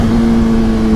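A Honda CBR600RR supersport motorcycle engine pulling hard under acceleration, a loud steady high-pitched whine held close and constant for a brief second, with no talking.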